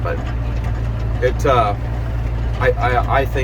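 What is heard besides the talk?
tractor engine idling while pulling tillage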